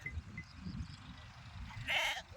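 A sheep or goat from a grazing flock gives one short bleat near the end, faint and somewhat distant over low murmuring voices and quiet outdoor background.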